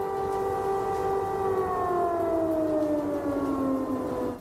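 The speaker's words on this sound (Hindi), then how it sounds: "कीव में पिछले 2 दिन से थोड़ी थोड़ी देर पर सायरन बज रहा है" An air raid siren wails in Kyiv, a steady tonal howl that slowly glides downward in pitch, heard from a moderate distance over low background rumble.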